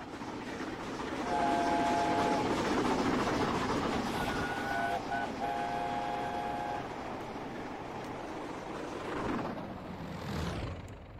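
A Class 37 diesel locomotive in Train Simulator 2021 pulls away on a Mid-Devon run, its steady engine rumble joined by two loud horn blasts before the sound fades and tails off into a passing whoosh.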